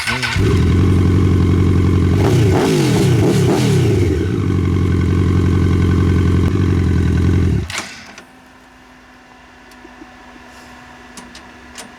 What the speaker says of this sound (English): Gotta rev it up a little bit.